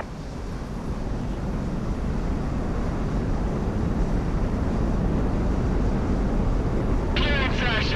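Incoming plane in the video game Project Wingman, a steady roaring rush of jet wind and engine noise that holds loud and even throughout, with a brief voice breaking in near the end.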